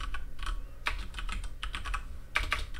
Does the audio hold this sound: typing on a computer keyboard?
yes